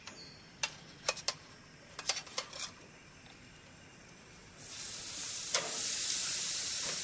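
Flank steak goes onto a grill set to medium-high, with a few sharp clicks and taps first, then a soft rising sizzle of searing meat that holds steady near the end.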